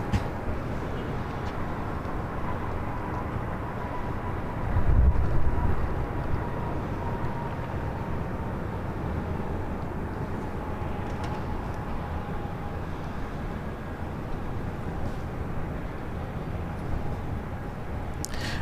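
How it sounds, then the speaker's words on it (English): Airbus A319 airliner touching down on runway 24 left at LAX, a distant, steady low engine roar with faint whine, heard from afar with a brief louder bump midway. "Airbus 319 touching down"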